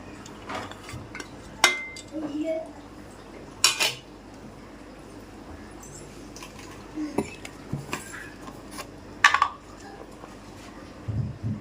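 Tomatoes, onions and garlic go into a cooking pot of gongura and boti (tripe) curry, with scattered metallic clinks and taps of a spoon against the pot over quiet kitchen background.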